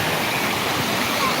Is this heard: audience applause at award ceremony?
no